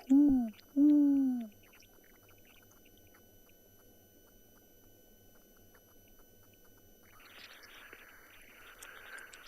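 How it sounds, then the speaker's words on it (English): Two deep hoots from a spotted eagle owl close by, the second slightly longer, then quiet outdoor ambience at sunset with a faint hiss building toward the end. "I'm almost certain it is the spotted eagle owl, not the giant."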